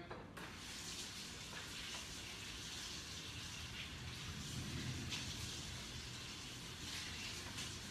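Tap water runs steadily into a sink as hands are washed between food-prep steps, a continuous close gush of splashing with no talking over it.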